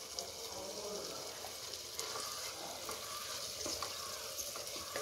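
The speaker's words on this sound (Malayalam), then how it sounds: "ഹൈ ഫ്ലെയിമിൽ ഇട്ടിട്ട് നന്നായി ഇളക്കണം." Fried rice stirred in a pan over a high flame, a faint continuous sizzle with soft scraping of the spoon, quiet and even throughout.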